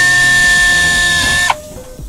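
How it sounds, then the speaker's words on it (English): A small dentist-style drill whines steadily at high pitch while drilling from the back side during door hanging work, then cuts off abruptly near the end, loud and close with no talk. "we got these little dentist drills"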